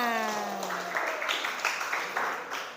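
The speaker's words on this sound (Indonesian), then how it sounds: "tepuk tangan untuk kita semua" A classroom group gives a short round of applause, a faint, fairly quick spell of clapping with a fading tonal sound at the start and some voices mixed in.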